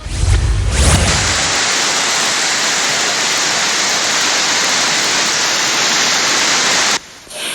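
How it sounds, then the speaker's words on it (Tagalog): Floodwater from heavy rain rushing at Tubod Bridge in Mindanao, a loud, dense, continuous roar of churning water that cuts off abruptly near the end. "halos umapaw na ang tubig sa Tubod Bridge dahil sa tindi ng pag-ulan sa lugar"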